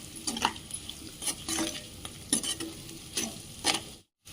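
Soft scraping of a spoon stirring potatoes frying in a pan, in a few irregular strokes over a faint sizzle, ending in a brief silence.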